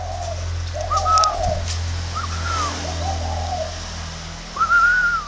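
Spotted doves, a batch of breeding birds being transported for sale, coo in soft repeated phrases close by over a steady low engine-like hum, with several calls spaced across the stretch.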